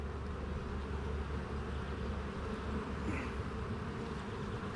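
Dense, steady buzzing of many honeybees close by on a heavy hive frame with capped brood, humming on without pause and with no talking.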